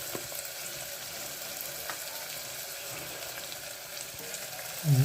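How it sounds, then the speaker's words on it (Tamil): Onion, ginger and garlic sauté in hot oil for chana masala, giving a soft, steady sizzle at low volume, with a brief louder bump at the very end. "இஞ்சி பூண்டு இதுவும் போட்டுருங்க. அப்போ தான் அந்த உங்களுக்கு இஞ்சி பூண்டோட அந்த வாசனையும் போகணும் இந்த எண்ணெயில் வதக்கும்போது"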